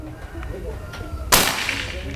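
A single sharp crack from a PCP air rifle, a Predator or Marauder OD 38 with folding stock, fired once close by with a brief ringing tail over quiet outdoor background.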